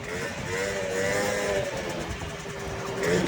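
A Honda Dio scooter engine hums steadily on a test ride through road traffic, a continuous mid-level drone with slight shifts in pitch and no voices over it.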